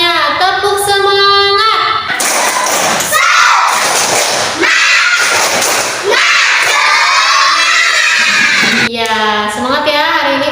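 Children in an Indonesian classroom shout the tepuk semangat chant loudly together, rhythmic group voices with bursts of claps and thumps, a teacher's voice leading in between.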